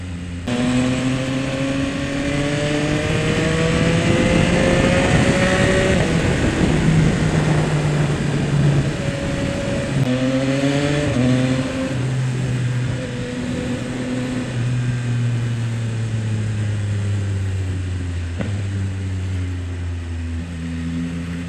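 Yamaha XSR900 classic-style motorcycle engine revving and downshifting, loud and close, with rising and falling engine pitch through repeated gear changes and throttle blips, with no voices.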